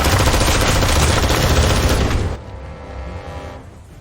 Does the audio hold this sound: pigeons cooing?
no